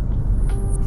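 A Toyota Yaris Cross Hybrid with a CVT drones loudly under full throttle, a steady sustained engine roar with no breaks, heard from inside the cabin during a brief burst of acceleration.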